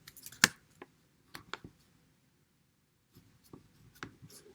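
Pen or pencil strokes on paper while jotting down measured times in a physics lab, several short scratchy bursts with a quiet pause between, close and fairly faint with no talking.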